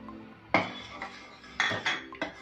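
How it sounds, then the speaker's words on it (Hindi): Milk powder being stirred into milk in a pan for caramel bread pudding, several sharp metallic clinks and scrapes of a spoon against the pan, close and fairly quiet. "और इसे अच्छे तरीके से हम मिला लेंगे ताकि बिल्कुल भी लम्स ना रहे"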